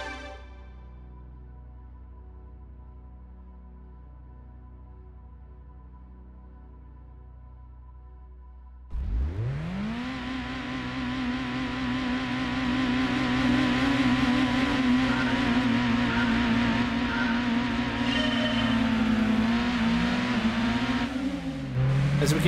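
Race cars in Gran Turismo 2 on the PS1, during a Clubman Cup race in GT Mode: about nine seconds of near silence, then a loud engine roar bursts in and holds as a sustained, steady drone with a rising pitch and no talking.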